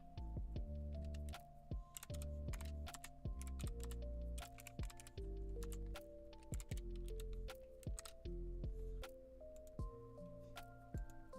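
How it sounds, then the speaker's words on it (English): Close keyboard typing, a rapid run of clicks and key taps layered over a continuous droning musical background. "You can hear me typing."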